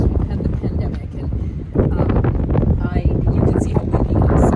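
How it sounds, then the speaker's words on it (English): Strong wind buffets the microphone with a constant rumbling roar, steady throughout and slightly louder toward the end. "you can see how windy it is"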